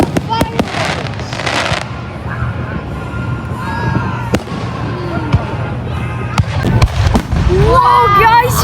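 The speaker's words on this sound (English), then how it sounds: "Look at all the fireworks!" Fourth of July fireworks burst with sharp bangs and crackles, several explosions spaced irregularly over distant whistles, while a crowd and children cheer and shout throughout.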